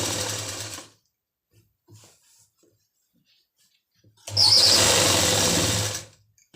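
A sewing machine stitches the seams of palazzo pants in two short, loud, close whirring bursts, separated by a few seconds of near silence.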